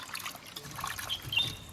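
Raw bananas being rinsed in water for banana kapa, with a soft continuous trickle and light splashing close by, steady and low throughout.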